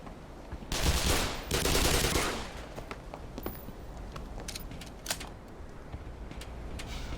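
Rapid bursts of video-game gunfire in Black Mesa, two loud dense volleys early on, then scattered sharp shots and clatter continuing at a lower level with no talk.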